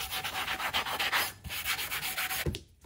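Hand sanding of a custom air intake for a BMW X5 diesel, using a 180 grit pad: steady, close, rhythmic scratchy back-and-forth strokes that run continuously, then stop near the end.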